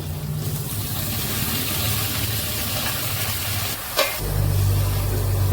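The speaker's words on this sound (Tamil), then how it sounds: "இப்போ இந்த கோங்கூராவை தூக்கி இதில் போட்டுடலாம்." Fresh gongura leaves drop into a hot pan for gongura pachadi, giving a soft, steady sizzle with stirring scrapes, a sharp clatter near the end, then a fuller sizzle.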